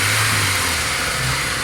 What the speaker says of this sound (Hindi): साउंड बड़ा ज़बरदस्त हो गया गाड़ी का।